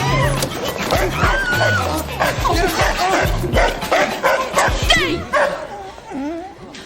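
A dog barks and yips repeatedly in short bursts amid a loud, busy scene, with people talking and shouting over it throughout.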